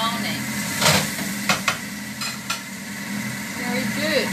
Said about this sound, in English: And I'll just give it a bit of stir so I get even browning.